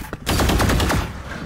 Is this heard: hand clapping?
no